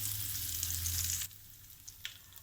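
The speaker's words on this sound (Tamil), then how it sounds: "அதில் எண்ணெய் ஊற்றிருக்கோம் எண்ணெய் உடனே நம்ம கடுகு சேர்க்குறோம்" Mustard seeds sizzle and crackle loudly in hot oil for about a second, then drop to a quiet hiss with a few scattered pops.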